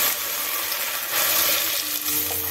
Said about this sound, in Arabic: اقلبها كده كمان تقليبه